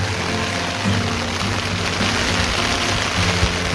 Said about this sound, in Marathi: बघा जास्तच पाऊस पडत आहे